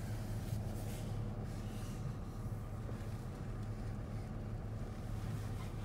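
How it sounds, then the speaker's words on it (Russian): A car rolls in under a home carport, its engine giving a steady, fairly loud low rumble that holds evenly throughout with no voices. "Загоняю под него машину."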